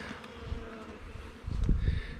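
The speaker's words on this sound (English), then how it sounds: "brush some of these bees off and get this kind of buttoned back up." Honey bees from a newly installed swarm buzzing at a hive, a steady close drone of many wings that swells louder toward the end, no talk.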